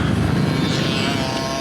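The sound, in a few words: motocross dirt bike engine on the track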